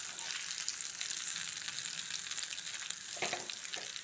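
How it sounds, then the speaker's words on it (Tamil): Crab pieces fry in a shallow layer of oil, giving a steady close sizzle with a short, louder crackling burst near the end. "கொஞ்சமாக எண்ணெய் ஊற்றி அதை பொரிச்சு எடுத்துக்கலாம்."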